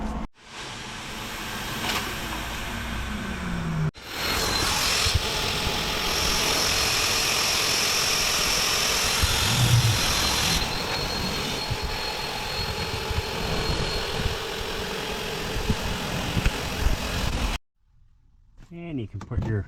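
Air pump inflating a Saluspa inflatable hot tub through a hose, a steady loud mechanical drone running for most of the stretch before cutting off abruptly near the end.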